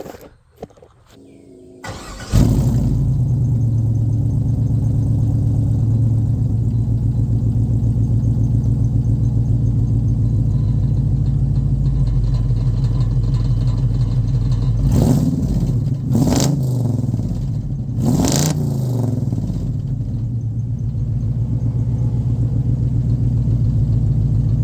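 A 1979 Firebird with a swapped LS V8 and new cam starts and settles into a deep, steady idle rumble, with a few short revs rising and falling partway through.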